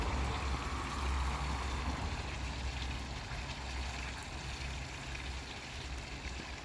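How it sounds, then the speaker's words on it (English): Water from a backyard pond waterfall splashing and trickling continuously, a steady close wash with a faint low pump hum underneath and no voices. "So the waterfall's been running"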